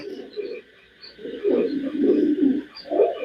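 A red-eyed female racing pigeon gives low, rolling coos up close, a short murmur followed by longer, fuller burbling phrases, alone without voices.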